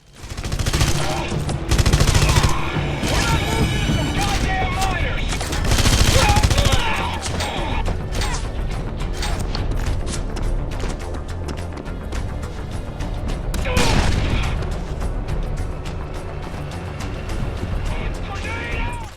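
Dense, continuous gunfire and rapid machine-gun bursts with explosive crashes from a PS3 shooter video game, loud and layered throughout with heavier peaks of action, while a voice talks over the battle.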